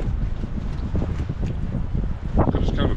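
Gusty wind buffets the microphone in a continuous rumbling roar, with rustling bursts rising and falling throughout.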